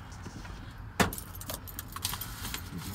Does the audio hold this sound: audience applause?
no